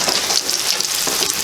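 Hoecakes frying in a pan, giving a steady close crackling sizzle with small popping bursts throughout, no voices.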